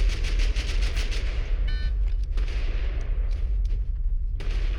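Rapid bursts of BAR rifle fire in a video game, loud and dense, with a short pause before shooting resumes in sustained volleys.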